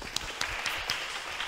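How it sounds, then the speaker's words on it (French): Brief, fairly faint applause at a graduation ceremony, with a few distinct claps standing out from a soft clapping background for about a second and a half. "je voudrais vous applaudir"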